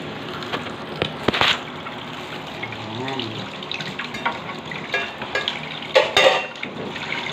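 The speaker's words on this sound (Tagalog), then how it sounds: "habang tayo nagpiprito" Steady crackling sizzle of food frying in a pan, with a brief voice and a few clinks of utensils nearby.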